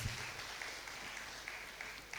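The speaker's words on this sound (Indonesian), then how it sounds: "Berikan tepuk tangan bagi Tuhan Yesus Kristus" A church congregation at a special anniversary worship service applauds, a soft, distant wash of steady clapping heard at low volume throughout.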